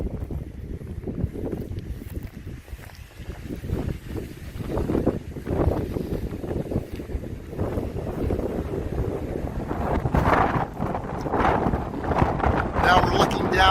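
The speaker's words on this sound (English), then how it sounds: "Once you top this ridge, it just becomes gale force wind." Gale-force wind roars across a high mountain ridge in Nevada, battering the microphone in loud, continuous gusts that swell and ease throughout.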